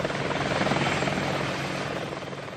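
Apache attack helicopter in flight during Gulf War training, a loud, close, steady rotor chop and turbine roar that holds level throughout.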